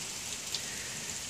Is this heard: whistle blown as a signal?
no